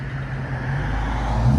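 Chrysler 300 with a 5.7L Hemi V8 and Flowmaster FX exhaust with rear delete, a deep steady exhaust rumble that swells slightly louder over a short moment.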